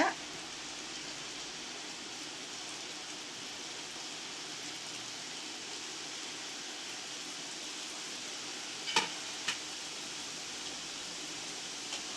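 A second batch of wheat snacks fries in oil over a low flame, giving an even, gentle hiss like light rain, with a couple of faint clicks near the end.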